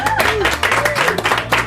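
Audience applause for the band in a small carpeted hub area by kitchens and toilets, steady dense clapping with some voices and whoops mixed in throughout, fairly close and loud.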